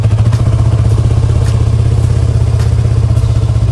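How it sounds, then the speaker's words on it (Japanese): A 2020 Yamaha YZF-R25 motorcycle with a stock muffler runs just after being started, its engine giving a loud, close, steady low throb with a faint regular clatter throughout. "エンジンかけてみます。"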